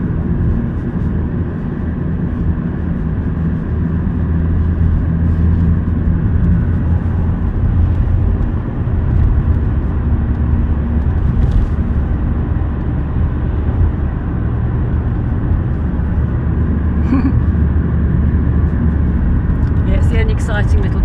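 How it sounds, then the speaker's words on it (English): Steady traffic roar from the M40 motorway beside a winter drive, a continuous loud broadband wash of passing vehicles with no breaks. "This is the exciting bit of the drive because I'm alongside the motorway."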